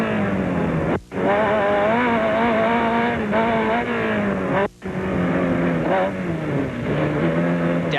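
Off-road race trucks at a 1994 Lake Geneva sportsman race roar off at the green flag, heard on board as a loud, sustained engine drone with rising and falling revs, broken by two brief drops, with a commentator talking over it.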